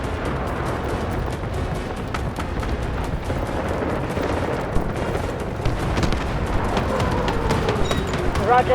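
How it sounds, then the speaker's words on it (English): Artillery barrage explosions in the video game Delta Force roll on as dense, continuous booming and rumbling, with sharper blasts and crackles rising toward the end; a radio-style voice speaks over the bombardment. "Roger that. Artillery barrage incoming."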